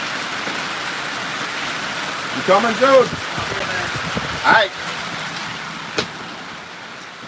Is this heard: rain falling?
yes